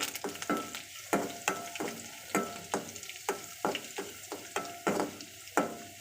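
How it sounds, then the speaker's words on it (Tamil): Whole crushed garlic cloves, skins still on, sauté in hot oil with a constant sizzle, while a spatula scrapes the pan in a quick, regular rhythm close by. "அது வரையும் கொஞ்சம் நல்லா பொன்னிறமாக வறுத்துக்குங்க."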